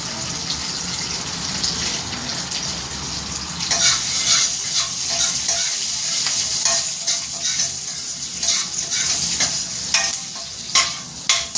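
Peanuts, green chillies and onion sautéing in a pan for upma, a steady bright sizzle with stirring scrapes that grows louder midway and keeps crackling to the end, with no voices.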